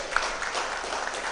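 Audience applause for the panelists of a wealth and legacy event, a soft, distant, continuous patter of clapping that lasts the whole moment, with no voices over it.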